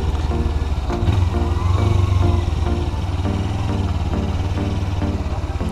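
A motorcycle engine idles steadily at low revs while being parked at a park, a close, even putter that continues throughout with no talk.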